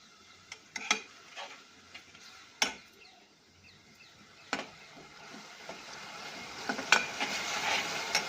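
Spices crackle in hot oil as vaghar tempering for a parval and potato curry. Sharp clinks and pops from the pan stand out over a faint sizzle that thickens steadily toward the end, with no talking.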